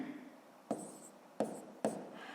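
Pen strokes on paper while working a sixth-grade maths exercise, three short distinct scratching bursts spaced evenly apart in a quiet room, close and fairly faint.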